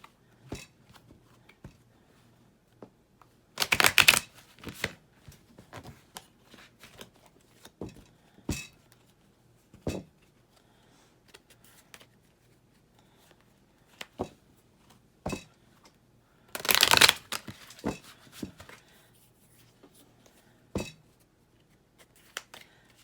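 Tarot cards are shuffled by hand in scattered soft riffles and taps, with two louder, longer shuffling bursts in a quiet room.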